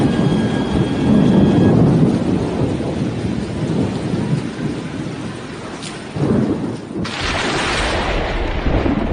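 Cyclone Amphan's winds roar over West Bengal and Odisha with heavy rain, a loud sustained rushing rumble that surges and dips, briefly drops near the seventh second, then returns.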